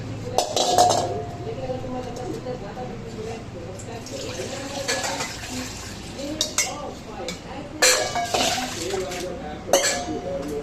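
Pot and utensils clink as dal is put on to cook in a home kitchen, a few sharp clinks and knocks scattered through the clip with light background sounds.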